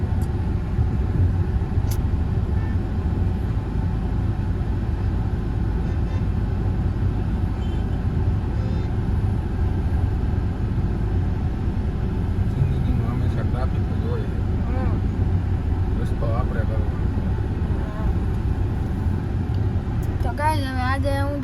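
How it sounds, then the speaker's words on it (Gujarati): A car driven through heavy traffic in Morbi hums along with continuous engine and road rumble, other vehicles passing nearby and a few sharper tones near the end, with no clear voices. "અહીંયા ફૂલ ટ્રાફિક જ હોય મોરબીમાં જુઓ. અને અહીંયા મારા પપ્પા ગાડી હકાવે છે"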